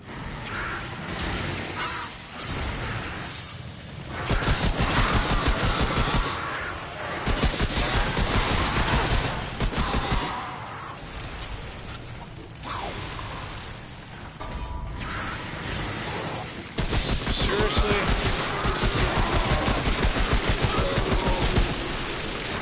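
Gunfire in the video game Remnant: From the Ashes, dense rapid bursts of rifle shots and clattering mechanical effects that surge and drop in waves over about twenty seconds.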